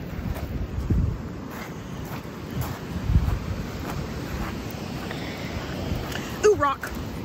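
Wind-blown ocean surf on a Pacific Northwest shore, a steady rumbling wash of waves buffeted by gusty wind against the microphone, with a brief voice near the end.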